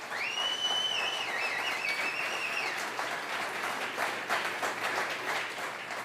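A church congregation breaks into sustained clapping, a dense, even patter of many hands filling the room, with a bright whistle-like tone sliding over the start.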